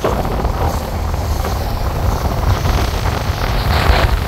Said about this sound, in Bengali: যাত্রী উঠে গিয়েছে, এখন ট্রলারটি চলে যাবে।